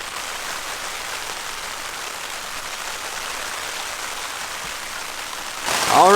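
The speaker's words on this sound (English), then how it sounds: "As you all can hear, it is raining pretty good right now." Rain pours steadily onto a Zpacks Duplex tent in windy weather, a dense, even hiss of drops on the fabric close by, with a brief louder rustle at the very end.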